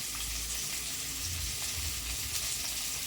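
Okra sautéing in a pan for a hotel-style tamarind curry, giving a steady, close sizzle with soft low scraping and stirring throughout, no voices.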